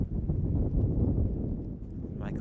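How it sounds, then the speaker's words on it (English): Strong gusting wind, around 45, sweeps across an outdoor college soccer field during a penalty shootout, a loud, rumbling buffet against the microphone that fills the clip. "The wind is right at their back, blowing around 45 gusting."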